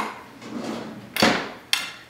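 Metal spoon pulled from a cutlery drawer in a home kitchen while cooking lasagna, a soft drawer rustle followed by two sharp clinks close by.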